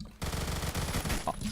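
Rapid automatic gunfire from a high fire-rate weapon in the Roblox game Phantom Forces, a dense, steady burst of shots running loud and close through nearly the whole moment after a brief quiet start.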